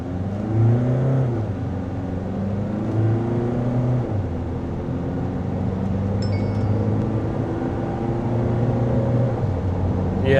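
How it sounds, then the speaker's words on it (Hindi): A Mahindra XUV 7XO diesel automatic in zoom mode accelerates hard from standstill to 100 km/h, its engine droning steadily and rising through gear changes, heard from inside the cabin with no talk. "एक बार मैं आपको गाड़ी का 0 to 100 करके दिखा देता हूँ"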